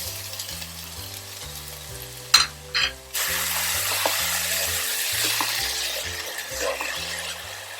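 Potatoes go into a pan of cooking masala with a couple of clattering thuds, then a steady sizzle of frying continues over soft rhythmic background music.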